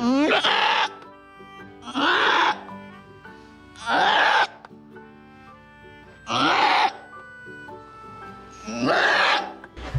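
A goat in labor lets out five long, strained, hoarse screams at regular intervals, each lasting about a second, with labored quiet between them.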